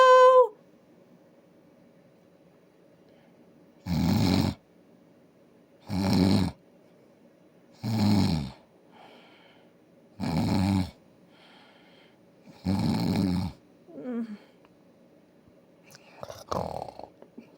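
A person snoring while asleep, five evenly spaced loud snores about two seconds apart over quiet background hum, with a brief vocal sound at the start and some softer noises near the end.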